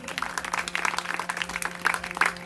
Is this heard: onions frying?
no